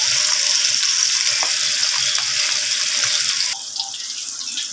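Loud, steady sizzling and crackling of fish frying in a pan close by, dropping slightly quieter near the end.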